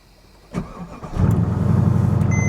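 A Mazda RX-8 with a non-factory exhaust cranks briefly, then catches and settles into a throaty, pulsing idle, close and loud.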